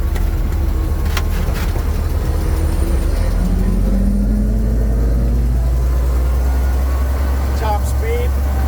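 A 1928 Graham Brothers truck drives along with a steady low engine rumble and road noise filling the cab, while people talk over it.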